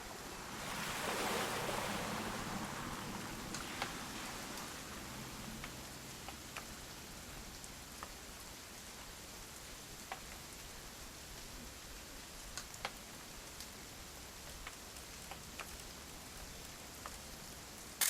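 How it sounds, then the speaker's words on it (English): Steady rain falls in What Remains of Edith Finch, a dense, even hiss broken by scattered sharp drop ticks, loudest at the start and then settling into a constant wash. "It's gonna rain the whole weekend, isn't it?"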